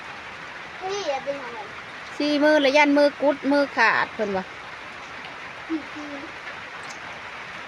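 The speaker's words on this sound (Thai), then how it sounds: "พี่น้องฝนตกขักเลยค่ะ" Heavy rain makes a steady, dense hiss over a rural field while someone talks loudly over it in short bursts.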